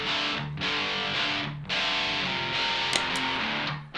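Electric guitar through a Friedman BE-OD overdrive pedal set low for early amp-style breakup, with gritty chords ringing and sustaining in several strums, loud and close, with no talking.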